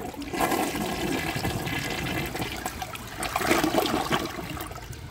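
A 1995 ADA Mansfield Alto toilet flushes a washcloth, a close, loud rushing swirl of water that rises, surges again partway through, then trickles as the bowl refills.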